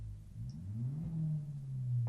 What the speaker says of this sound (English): likes to rev his engine